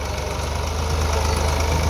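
A Massey Ferguson 260 tractor's diesel engine idles steadily up close, a low, even throb with a faint mechanical knock running underneath and no voices.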